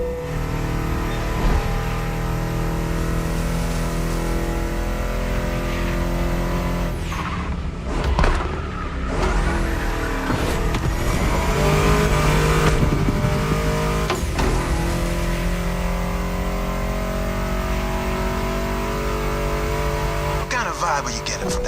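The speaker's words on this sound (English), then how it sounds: "Meshes well with the sound of the engines" A muscle car, a Mustang GT in the Crew Motorfest racing game, revs and accelerates under a continuous engine roar, with shifts, a brief tire squeal and music playing underneath.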